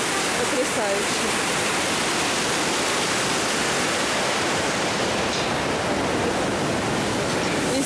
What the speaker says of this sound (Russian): Уже смотришь на эту бурлящую воду, это, ну, что-то невероятное.